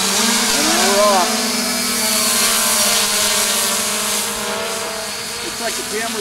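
A 3DR IRIS+ quadcopter's motors spin up for takeoff into auto mode, a loud droning whine with rising and falling pitch sweeps as the throttle changes, close by and fading slightly as it lifts away.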